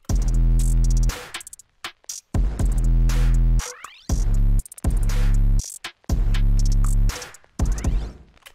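A hyperpop glitchcore beat built from a long, fuzzy 808 bass with velocity turned off, so each note hits at the same level and is cut short. Drums play along, with choppy gaps and rhythmic stops between loud bursts.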